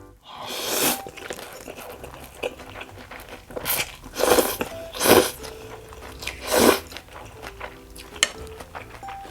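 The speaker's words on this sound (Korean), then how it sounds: "일단 고수 안 섞은 부분부터 먼저 먹어볼게요" Someone eats pho from a meal kit with bean sprouts: loud, close crunching bites and chewing come in bursts, with light clinks of cutlery and bowl between them, and no talking.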